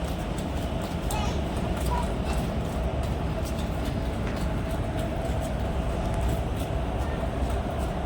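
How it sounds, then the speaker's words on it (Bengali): A steady low rumble of rail traffic fills the scene, heard from a railway overbridge, with continuous broadband noise and faint clanks, like trains passing nearby below. "দেখো কত ট্রেন।"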